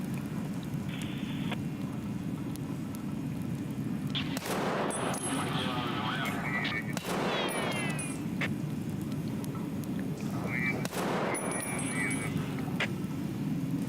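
Gunfire in the video game Escape from Tarkov: a few sharp shots or short bursts cut through a steady, low background rumble.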